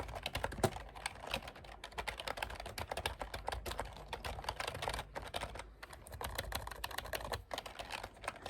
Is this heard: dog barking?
no